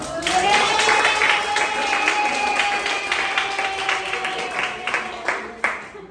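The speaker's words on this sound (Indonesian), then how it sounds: "Ya kita kasih tepuk tangan untuk kelompok 4 untuk maju pertama." Audience in a university classroom clapping for a student group about to present, sustained mixed applause under a steady tonal hum, with talking voices and a sharp clap near the end.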